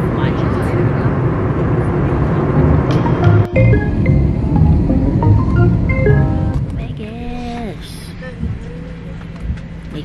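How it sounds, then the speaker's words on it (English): Loud, steady broadband roar of an airplane cabin during a rough flight shortly before landing, continuous throughout and easing slightly toward the end, with a few faint tones and voices in the background. "We are 20 minutes from landing. It's been a very rough flight."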